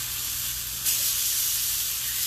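Skirt steak sizzling in a very hot pan just after a flip, a broad steady hiss that swells suddenly louder partway through and holds, with no talking.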